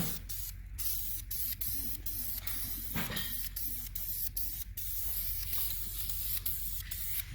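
An aerosol spray paint can lays down a light dusting coat, heard as a close, continuous hiss in short repeated bursts with brief pauses between passes.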